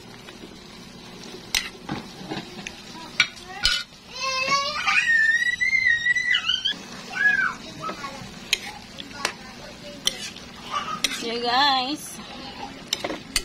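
A sweet corn mixture with sugar is stirred in a pan in a home kitchen, with intermittent scraping and clinking of a utensil against the pan, while a voice talks over parts of it.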